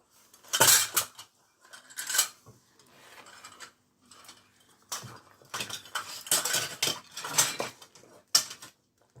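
Semolina is stirred in a pan on low heat for upma, with repeated close dry scraping and rasping strokes of a spoon against the pan in uneven bursts separated by short quiet gaps.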